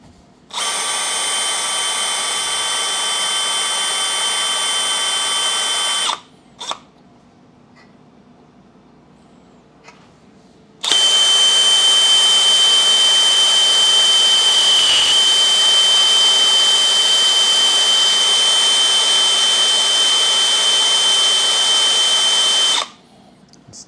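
A drill bit cuts into cast iron on a Lagun FT-1S vertical mill, giving a loud, steady high-pitched whine in two long runs separated by a quiet pause with small clicks, ending abruptly.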